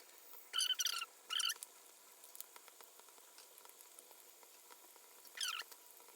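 Kebab-filled samosas frying in hot oil, heard as short bursts of crackling sizzle when pieces go in, then faint scattered pops in a quiet kitchen.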